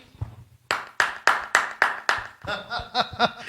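Distinct rhythmic hand claps in a church gathering, about six sharp evenly spaced claps close by, followed by a faster flurry of claps as singing or voices join in.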